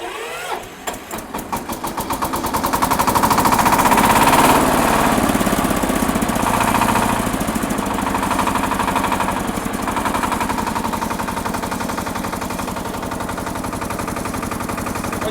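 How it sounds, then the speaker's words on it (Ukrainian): A Shifeng 240 B mini tractor's small engine cranks with rapid chugging pulses, catches and revs up loudly, then settles into a steady clattering idle close by. "увімкнути замок запалення і тоді запустити двигун"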